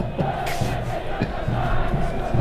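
Stadium crowd at a soccer match between FC Dallas and Chattanooga FC, a loud sustained roar of massed voices with rising shouts and cheers, steady throughout.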